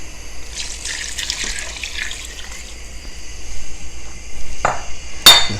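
A quart of filtered water pours into a pot of Portuguese kale and chorizo soup, a steady splashing stream close by, ending in a couple of sharp knocks against the pot.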